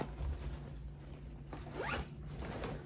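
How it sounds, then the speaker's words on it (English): A zipper drawn closed on the pocket of an inexpensive accessory-haul bag, one quick close, nearby sliding rasp over low room hum. "so you just put it in here and you zip it up"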